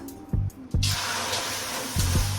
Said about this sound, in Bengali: হ্যাঁ, এখন জল দিচ্ছি।